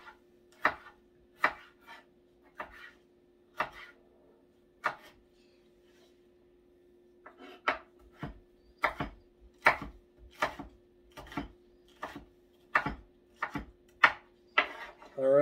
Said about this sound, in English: now our peppers are all nice and chopped up